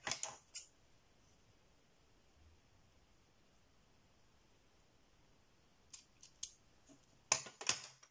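Scissors cutting a straight line through paper for bookbinding an album, a few crisp snips at the start, then near silence, followed by a cluster of louder close cuts toward the end.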